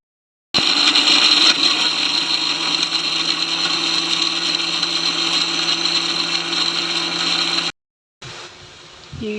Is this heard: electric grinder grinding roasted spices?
yes